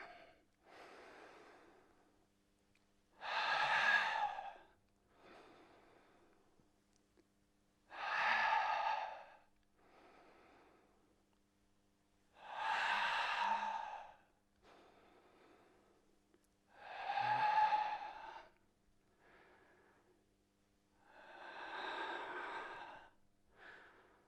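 Slow, deliberate exhalations during a tai chi workout, five audible breaths spaced evenly several seconds apart, soft and close with quiet pauses between them.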